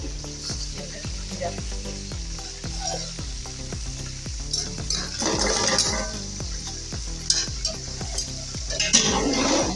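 Onions frying in hot oil for a partridge pulao, a steady loud sizzle with repeated clinks and scrapes of a spoon stirring against the pot, no talking.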